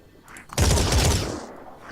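A heavy gunshot in the turn-based tactics game Phoenix Point: one loud, close burst with a rumbling tail that fades over about a second, after a quieter lead-in.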